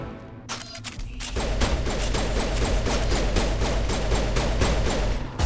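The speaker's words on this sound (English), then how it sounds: "Who the fuck are you shooting at, Kaidan?" Heavy, continuous gunfire from Mass Effect combat, a dense rattling fusillade that starts after a brief lead-in and holds loud and unbroken for several seconds.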